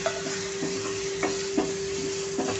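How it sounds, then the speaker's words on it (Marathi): Spices and softened tomato fry in a pan for ridge gourd bhaji, a low, steady sizzle with a few soft stirring scrapes, close up, and no one speaking. "मसाले छान असे फ्राय परतून घ्यायचे आहेत"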